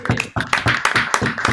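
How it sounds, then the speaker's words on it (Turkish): Several people clap in a quick, uneven burst during a Counter-Strike: Global Offensive hide-and-seek game, sharp close-up claps following one another rapidly for a moment. "alkış."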